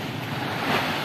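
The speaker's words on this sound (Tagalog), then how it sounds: "Ang lakas ng alon." Strong ocean waves surge at a pier in San Agustin, a loud, continuous wash of surf with wind buffeting the microphone.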